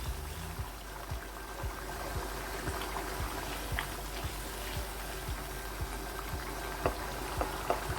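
Boneless chicken handi simmers to cook off the tomato liquid, a steady close bubbling with small pops and a faint continuous hum, no voices.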